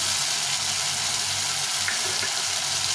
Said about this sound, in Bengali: এটাকে ভালো করে একটু কষিয়ে দিতে হবে, টমেটোটা যেন গলে যায়